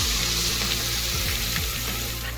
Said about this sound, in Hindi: अभी मैंने अनियन डाल दिए हैं और ये अनियन तब तक आपने भूनने हैं जब तक इनका जो कलर है वो ब्राउन ना हो जाए